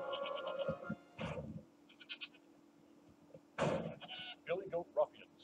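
A goat in a TV advert lets out intermittent bleats that mix with spoken voices, several short calls spread across a few seconds, close and moderately loud.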